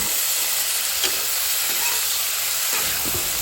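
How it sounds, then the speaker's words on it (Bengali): Cut potatoes dropped into spice paste frying in a pan, a loud, steady close sizzle and hiss with a few faint utensil knocks, no voices. "মশলা কষানো হয়ে আসলে এর মধ্যে দিয়ে দিচ্ছি কেটে রাখা আলু"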